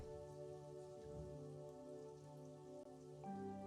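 Rain falling in the video game Trails in the Sky the 3rd, a soft steady patter under sustained background music tones.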